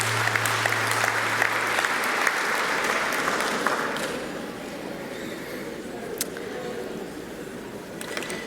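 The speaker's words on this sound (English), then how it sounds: "Can we give a very solid round of applause for our Academic Achievement Awards winners?" Graduation audience at a college ceremony applauding academic achievement award winners; sustained loud clapping from a large crowd for about four seconds, then easing to lighter, scattered applause with a few sharp claps.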